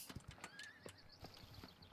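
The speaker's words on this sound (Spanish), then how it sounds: "Es un caballo, tío." In the video game Myth of Empires, a horse whinnies with a rising and falling neigh over quick, close clip-clopping hooves.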